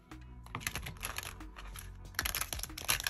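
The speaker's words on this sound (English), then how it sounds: "Give them a good little shuffle." A deck of standard-size tarot cards is shuffled by hand, a quiet run of rapid papery flicks and clicks rustling continuously without talk.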